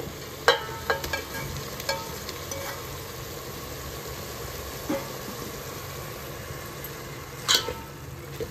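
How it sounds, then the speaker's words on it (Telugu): Paneer pieces fry with masala in a pan over a medium flame, giving a steady low sizzle with a few sharp clinks and stirring scrapes, with no voices. "మీడియం ఫ్లేమ్లో పెట్టుకొని ఈ పన్నీర్ ముక్కలకి కొంచెం మసాలా అంతా పట్టేలాగా వేయించుకోవాలి."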